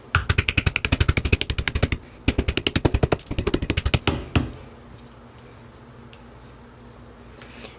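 Oak galls crushed in a mortar and pestle by hand, a rapid run of sharp, close pounding strikes in two bursts of roughly a dozen each, then a few final knocks before fading to quiet.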